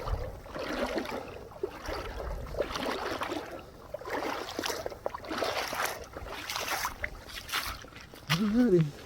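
Brushy Creek's current flows and sloshes steadily around someone wading across the creek, a continuous close trickle and splash along an Ozark Trail section, with a brief voice near the end.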